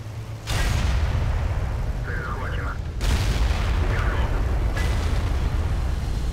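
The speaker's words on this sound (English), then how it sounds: "you can hear the gun sounds, so all tanks have different gun sounds as well as hit sounds" Heavy tank cannon blasts from World of Tanks, two big booming shots with long rumbling tails, loud and close, over steady low engine drone and some faint game chatter.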